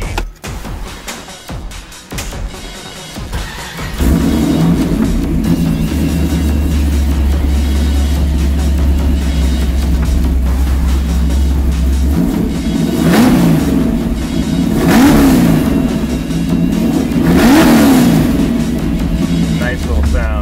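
A Ford 302 V8 hot rod engine in a 1964 Mustang idles with a deep, lumpy rumble, then revs up in several strong surges, loud and close.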